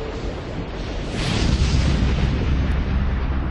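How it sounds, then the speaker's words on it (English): A colossal explosion on a North Sea oil platform, heard as a sustained, loud roaring rumble that swells after the first second and stays heavy and broadband to the end, with no voices. "the colossal explosion at 10:50 p.m. rips the end off it"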